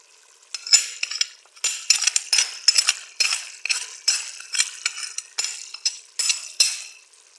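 Spoon scraping and stirring through chicken kabab mixture seasoned with salt, ground chili and masala, a steady rhythm of close, wet clinking strokes against the dish, repeated many times with no talk.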